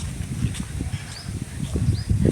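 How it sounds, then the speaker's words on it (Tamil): Wind blowing outdoors in a natural setting: a steady, low buffeting rumble close to the microphone, with a few faint high bird chirps above it and no talking. "காற்று சத்தம்"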